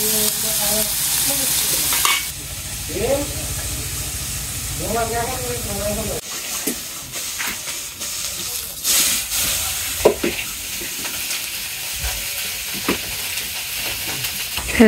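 Puti fish fry in hot oil for curry, giving a steady sizzle and hiss with occasional stirring scrapes and clinks, close by, while a person talks at times over it.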